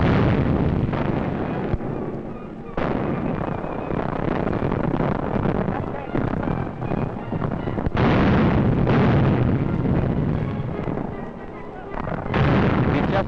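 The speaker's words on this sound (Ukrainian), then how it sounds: "наш оператор відобразив на кіноплінці розриви снарядів радянських гармат на шляху німецьких танків" Soviet artillery shells exploding in the path of German tanks in 1943 wartime newsreel footage, a continuous loud rumble of blasts and booms with a few sharp cuts, under a narrator's voice.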